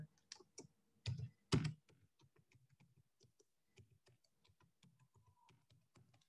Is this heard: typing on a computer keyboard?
yes